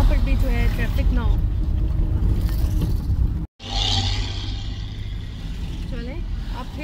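Steady road traffic with car engines rumbling past on a rural road stretch under construction and broken in places, a continuous low roar with a brief cut, voices talking over it.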